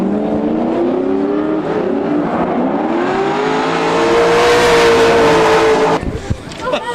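Two drift cars running tandem along a wall at a Colorado drift competition, engines droning and revving with a rising, sustained pitch, then a sudden cutoff and the crackle of tires and exhaust near the end, all loud and close.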